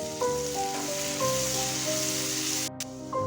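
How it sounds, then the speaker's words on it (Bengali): Steady sizzling of chopped onions frying in hot oil until browned, with clinking of a utensil against the pan and a faint tonal hum throughout. "পেঁয়াজটাকে লাল লাল করে ভেজে তুলে নেবো"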